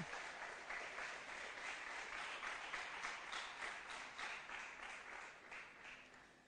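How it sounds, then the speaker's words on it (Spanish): Church congregation claps for the Lord during a Nazarene service, a faint but steady patter of many hands heard from a distance, fading slightly toward the end. "¿Le puede dar un aplauso fuerte al Señor los que creen que eso puede pasar?"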